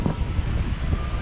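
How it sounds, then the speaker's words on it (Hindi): Strong wind blows outdoors in Japan, buffeting the microphone with loud, continuous low rumbling gusts and no talking. "अरे हवा चल रही है बहुत तेज़, दूसरी जगह चल।"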